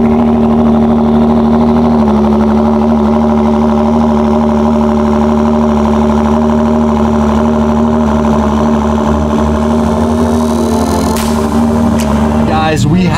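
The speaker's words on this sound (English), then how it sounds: "I'm gonna give you guys the cold start." A Ford GT with an Akrapovic titanium exhaust idles after a cold start, a loud, steady, deep drone with a faint rise in pitch near the end.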